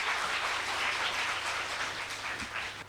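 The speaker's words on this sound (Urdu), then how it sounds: "آپ سب کی بھرپور تالیوں میں" Steady applause from an audience at a children's assembly in Karachi, a dense, even wash of clapping that fills the whole stretch with no voices over it.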